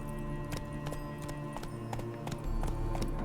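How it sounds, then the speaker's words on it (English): Roach, Geralt's horse in The Witcher 3, clops along with hooves striking in a steady rhythm, close and moderately loud, with no voices over it. "Spooking my horse."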